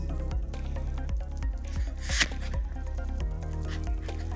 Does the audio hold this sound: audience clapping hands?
no